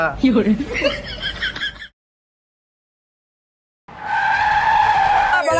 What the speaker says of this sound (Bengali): ড্রাইভার ব্রেক মারলো